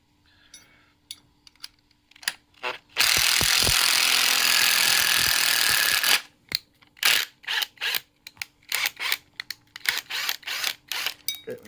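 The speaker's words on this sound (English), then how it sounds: "I'm just going to tap those screws" Power drill on a long extender driving screws into a LiftMaster garage door opener: a single loud, steady whir lasting about three seconds, bracketed by sharp clicks and handling knocks.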